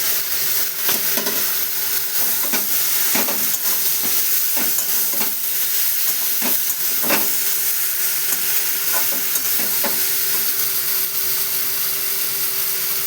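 Pointed gourd and shrimp fry in a pan, a dense constant sizzle close by with scattered scrapes and clinks from a spatula stirring, no talking.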